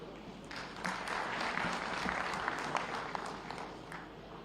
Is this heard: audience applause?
yes